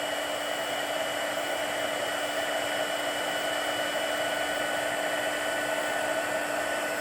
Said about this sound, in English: Now let's warm it with our heat tool.